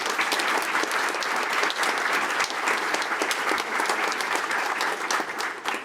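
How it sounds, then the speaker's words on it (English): Enthusiastic crowd applause for staff at a welcome event for new Thorns FC owners, dense rapid clapping that stays loud and steady for several seconds. "let's give a round of applause for our staff, please"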